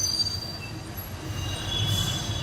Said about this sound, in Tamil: இங்க பாருங்க, ஆப்போசிட்ல மெட்ரோ ட்ரெயின் வந்துட்டு இருக்கு.